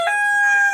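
Part of a Kadaknath rooster's crow rings out loud and close at a jungle resort near Rajaji National Park, a sustained harmonic tone held steadily through the brief moment without other sounds.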